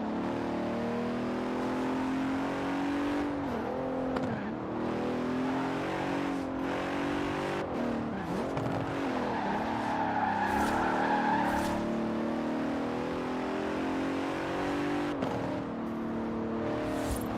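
A 2017 Bentley Continental Supersport, all-wheel drive, in the Forza Horizon 4 racing game, its engine droning steadily and loudly near at hand, with pitch swells as it revs and shifts and brief tire noise mixed in.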